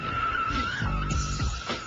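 Car tires squeal steadily in a long, wavering screech over the low rumble of an engine, close and fairly loud.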